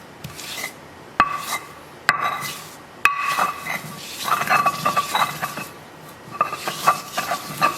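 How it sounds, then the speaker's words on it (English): Rasping, grinding rubs of a spice mixture for tongseng kambing (Indonesian goat stew) being pounded and ground, coming in close, loud, repeated bursts with a few sharp knocks against the vessel. "You can see how quickly this grinds into relatively fine grind."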